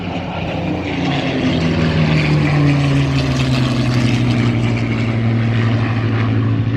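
P-51 Mustang and P-63 Kingcobra WWII piston fighters flying over at a World War II weekend event, a loud, continuous propeller-engine drone with a gradually shifting pitch as they pass, no talking.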